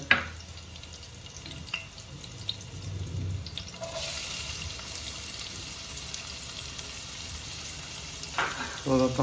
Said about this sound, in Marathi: कांदा ॲड केलेला आहे चांगला परतून घेऊया